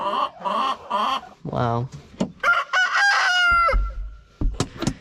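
Chickens cluck and squawk close by in short bursts in a farm coop, with a rooster-like call among them; a person briefly speaks once.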